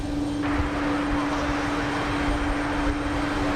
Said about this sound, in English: All right, the big takeoff. 7-4 out of here.